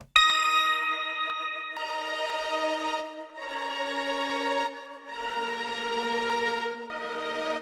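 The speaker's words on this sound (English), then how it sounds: "It's just a really dirty, distorted bell" A dirty, distorted synthesized bell from the Crystal Tapes preset of the Unclean Machine plugin plays a dark loop of sustained chord tones, each ringing with a buzzy harmonic edge before shifting to the next chord.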